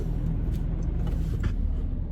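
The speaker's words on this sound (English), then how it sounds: "better turn this car off." Car engine running at idle, heard from inside the car as a steady low rumble with a faint hum throughout the short stretch.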